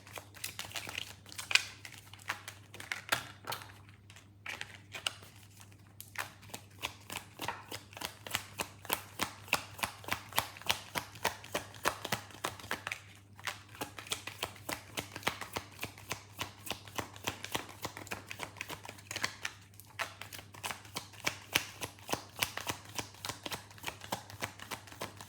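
Tarot cards being shuffled continuously for about 25 seconds, a dense run of quick papery riffling clicks and soft crinkles at close range over a steady low hum, with no talking.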